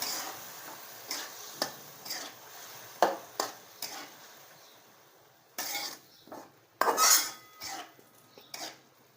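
Curd and chili are mixed with a spoon in a bowl: irregular clinks and scrapes of metal on the bowl, some in quick pairs and others spaced apart, close and moderately loud with no voices.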